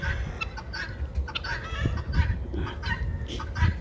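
Hens and chickens cluck and gobble-like calls overlap in a busy farmyard, nearby and moderately loud, over a low background rumble.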